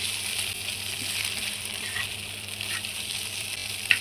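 Soft hilsa fish sizzles while being fried into a crumbly dry dish, a steady gentle hiss with faint stirring scrapes and a brief sharp clink near the end, no one speaking.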